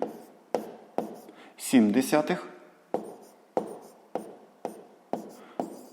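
A pen scratches out a sixth-grade maths subtraction on paper in short, regular strokes, close and clear, with a brief spoken voice partway through.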